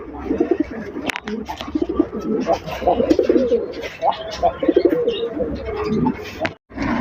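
Bangladeshi fancy racer pigeons coo repeatedly and loudly up close in soft rolling calls, mixed with someone talking throughout.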